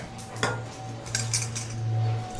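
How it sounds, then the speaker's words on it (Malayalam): Tea is strained from a pot into a cup, with metal utensils clinking against dishware and a steady pour running beneath, all close by with no voices. "ഇനി ഈ ചായ നമുക്ക് ഇതിലേക്ക് അരിച്ചൊഴിക്കാം"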